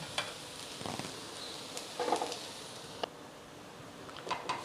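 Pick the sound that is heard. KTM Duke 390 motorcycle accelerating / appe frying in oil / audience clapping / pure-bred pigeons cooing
appe frying in oil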